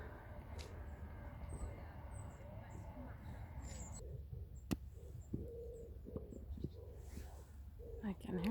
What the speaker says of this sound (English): I can hear some pigeons.